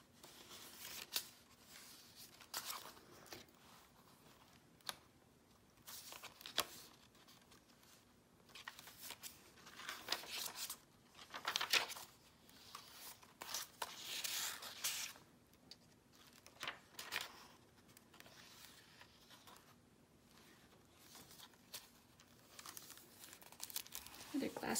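Vellum paper and other junk journal pieces crinkle and rustle as they are handled, in near, continuous, uneven bursts of crackling with small taps.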